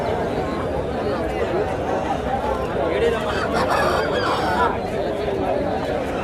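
Busy village livestock market din with constant crowd chatter, country chickens clucking and an occasional crow mixed into the noise, at a Monday market in Bhogapuram, Vizianagaram district, India.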